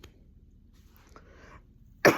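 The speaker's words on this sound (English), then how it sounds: "I'm coughing up a storm." A single short, loud cough bursts out right at the end, following a stretch of quiet room tone with only faint murmurs.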